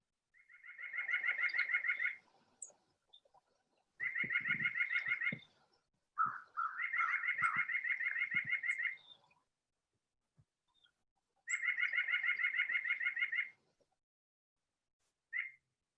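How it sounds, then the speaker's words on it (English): White-breasted nuthatch giving nasal, rapid yammering calls in repeated bursts of about two seconds each, fairly close and clear, separated by short pauses with faint background noise. "you can often hear their nasal yammering that'll lead you right to them"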